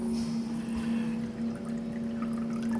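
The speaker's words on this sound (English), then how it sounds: "little dishes here with some lukewarm tap water." Lukewarm tap water pours into little dishes, a steady close trickling and splashing over a constant mechanical hum.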